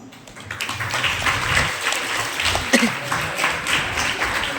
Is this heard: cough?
no